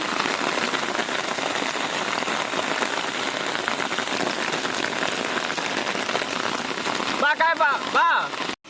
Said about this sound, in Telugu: వాన అయితే తెగబడిపోతుంది